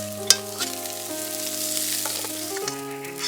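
Cauliflower and potato pieces frying in hot oil, a steady sizzle with a few stirring knocks, all under a sustained musical tone.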